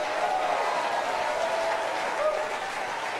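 A church congregation claps together during a worship service. The even, continuous clapping holds steady throughout, with faint voices or singing mixed in.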